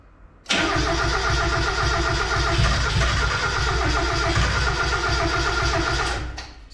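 A 1.6L turbo Mazda Miata drift car cranking and catching, the engine bursting into a loud rough run after a brief quiet start, then holding a steady idle before cutting off.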